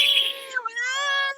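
A man imitates cats fighting and yowling at night with one drawn-out, wavering feline wail that bends in pitch, loud and close, with no other sounds around it.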